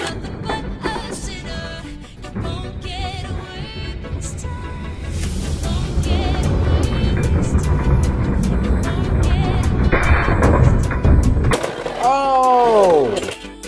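Beyblade Burst spinning tops, Beast Behemoth H.H. against Victory Valkyrie B.V., clash in a stadium with a steady loud whirring rattle and repeated sharp impacts, ending in a burst finish as one top breaks apart.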